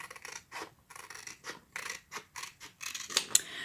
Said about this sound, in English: just go ahead and cut it